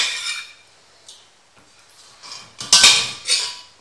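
Lamb tajine with raisins set down onto a preheated plate, giving a few close clinks and scrapes of dishware at the end after a quiet start.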